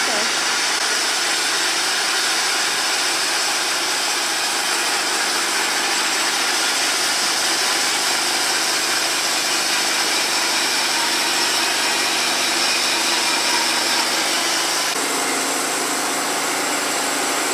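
A TimberKing 1620 sawmill blade cuts through a log with a steady, loud whine and grinding drone that holds continuously, shifting slightly near the end.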